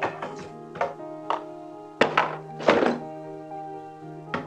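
Massage gun set down on a surface in a physiotherapy clinic, a few distinct hard thunks and taps spaced irregularly, close and fairly loud, with ringing tones between impacts and no voices.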